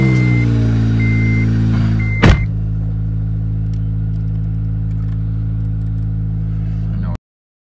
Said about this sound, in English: let's get in the Acura and let's drive up to the auto parts store